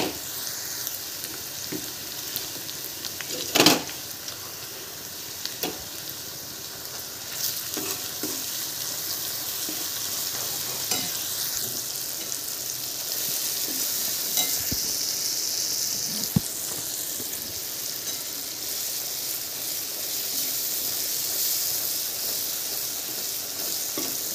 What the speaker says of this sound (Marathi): आता हा मसाला जो आपण ओला केला हा टाकून घेऊया।